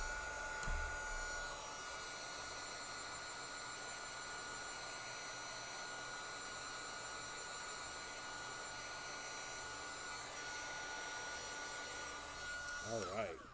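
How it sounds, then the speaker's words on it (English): Steady whirring blow of a heat tool heat-setting heavy ink on a stamped card, continuous and close for most of the span, with a brief knock at the start. "let me heat set it real quick because we put a lot of ink on there"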